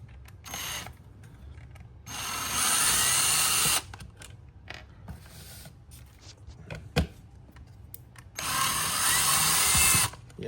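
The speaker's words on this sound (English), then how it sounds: "I'm just using a drill bit." A power drill whirs in two long bursts, with clicking and ratcheting between them as T20 Torx screws come loose from a 2004 Lexus LS430 Mark Levinson subwoofer, close by.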